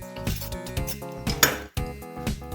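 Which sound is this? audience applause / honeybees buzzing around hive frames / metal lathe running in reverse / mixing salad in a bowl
mixing salad in a bowl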